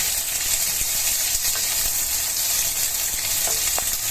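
Onions and bell peppers fry in a kadai for kadai paneer, with a loud, steady, close sizzle running throughout and faint stirring clicks on top, with no talking.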